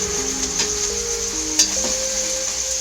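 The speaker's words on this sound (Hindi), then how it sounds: "देन उसके बाद मैं इसमें डालूंगी टमाटर।" Tomatoes dropped into a hot pan of frying food, giving a steady close sizzle with a sharp clatter near the middle as they land, while sustained tonal notes run underneath.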